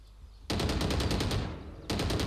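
Rapid automatic gunfire from the video game Valorant, loud and close, rattling in a fast stream of shots that pauses briefly and then resumes with another burst.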